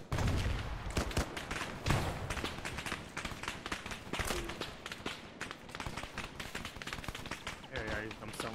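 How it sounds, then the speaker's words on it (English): Rapid gunfire crackles through a jungle firefight in a military video game, with dense bursts of shots and scattered sharp reports over a busy battle din while voices talk. "They shoot rockets at me, I shoot more bullets at them."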